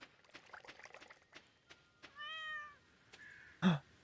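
A cat in the farming video game Stardew Valley gives one clear, drawn-out meow, close and moderately loud, between light clicking and patter sounds, followed by a short splash.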